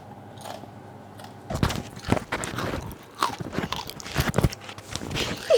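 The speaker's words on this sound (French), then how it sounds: "C'est super croustillant." Crunchy crust of homemade bread bitten and chewed up close, a few sharp crackling bites in irregular bursts with brief pauses between them.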